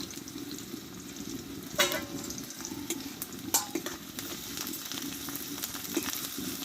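Pieces of ginger and garlic cloves fry in hot oil, a constant soft sizzle broken by a few sharp spatula scrapes and clinks against the pan.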